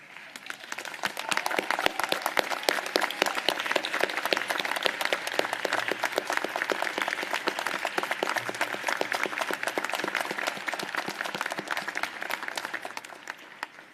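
Graduation ceremony audience in Hobart giving a sustained round of applause, many hands clapping in a dense, even roar that swells in and holds steady for over ten seconds before tapering off.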